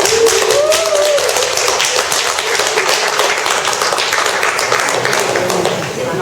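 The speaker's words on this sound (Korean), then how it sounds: "그런 멋진 당신을 위해서 다시 한번 박수를 주십시오." Lecture attendees clap at a poetry writing talk in Gunsan, giving a loud, dense burst of applause that holds steady and eases slightly toward the end, with some voices mixed in.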